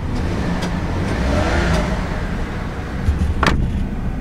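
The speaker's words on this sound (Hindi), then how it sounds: "Let's just hear the throttle." A 2015 Daihatsu Move car engine hums steadily and loud nearby, rising and falling as the throttle is revved, with a sharp click near the end.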